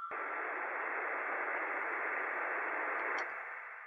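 A radio noise sample in an ambient track: a steady, hissing band of static that holds for several seconds, then thins out and fades near the end, with no voices.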